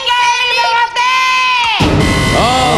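A group of children shout together in a loud, sustained chorus of high voices that shifts and swells before breaking into a looser cheer near the end.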